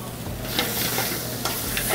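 Fish sautéing with blackened seasoning in a restaurant kitchen pan, a steady loud sizzle and frying hiss with occasional stirring scrapes, continuous and close, no talk.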